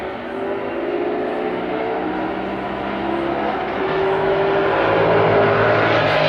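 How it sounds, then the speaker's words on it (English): Cars racing outside, heard from indoors as a distant, steadily swelling engine roar that grows slightly louder toward the end. "Oh, they're racing."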